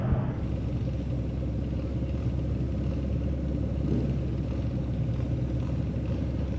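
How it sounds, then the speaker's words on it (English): A Mark 1 Ford Escort race car fitted with multiple carburetors rumbles at a hill-climb racing event, giving a steady, low engine drone heard from some distance with no voices. "One of the cars, absolute favourite, Mark 1 Escort, with lots of carburetors and induction noise."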